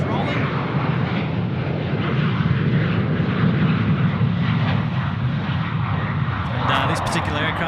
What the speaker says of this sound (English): on the near runway, runway right, we're going to Qantas 738 now, just rolling.